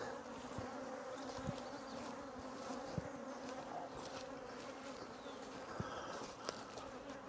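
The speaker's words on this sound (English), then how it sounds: "you can see these bees" Steady droning buzz of many honeybees swarming close by at a hive, with scattered sharper buzzes and faint knocks over a constant hum.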